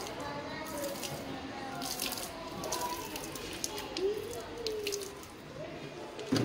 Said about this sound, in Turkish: Soğuması için de bir su yardımıyla şöyle su dökelim.